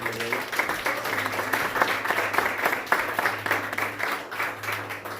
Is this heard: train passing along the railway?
no